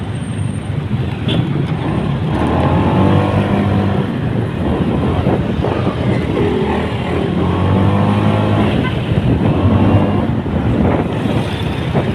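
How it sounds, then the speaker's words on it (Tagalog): Road traffic rumbles past steadily, with cars and heavier vehicles passing close by one after another, heavy wind buffeting the microphone throughout. "Grabe, traffic ah."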